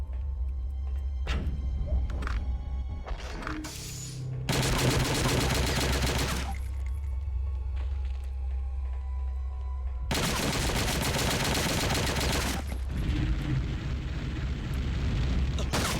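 Heavy in-game gunfire from Wolfenstein: Blade of Agony, with loud sustained bursts of automatic shots broken by short pauses, plus scattered single shots and booms.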